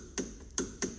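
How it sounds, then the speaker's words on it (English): Torque wrench with a 12 mm socket on a front brake bolt of a Vauxhall Corsa, giving three sharp, close mechanical clicks spaced a fraction of a second apart. "when it reaches the correct setting, you'll hear a click"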